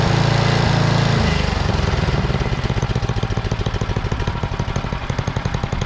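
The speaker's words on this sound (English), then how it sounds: "go get the snowblower now" A Toro 826LE snowblower engine runs close by during a snowstorm cleanup, a low rumble at first that settles into a loud, rapid, even chugging beat.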